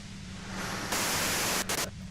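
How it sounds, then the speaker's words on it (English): Steady hiss of white noise static from the video game Disco Elysium, loud and continuous, swelling brighter midway and briefly dipping near the end, with no voices. "If you've got something really important to say, you can do it through the white noise."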